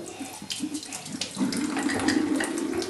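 Water runs from a bathroom tap in a steady, close stream while someone washes, growing slightly louder and fuller partway through, with no talking.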